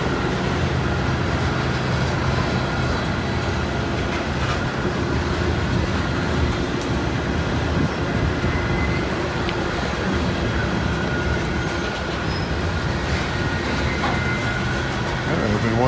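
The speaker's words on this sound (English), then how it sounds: "Well, if Timmy's on this train, we'll get a good look at him." Steady, loud rumble of a train rolling past close by, continuous low-end roar with clatter throughout the whole stretch.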